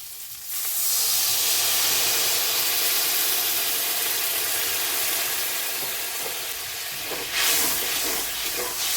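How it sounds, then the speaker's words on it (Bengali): Water hits a hot pan of spiced curry base for a Bengali eggplant and hilsa fish dish, bursting into a loud sustained hiss and sizzle that fades slightly, then flares up again near the end. "এবারে দিয়ে দেবো জল"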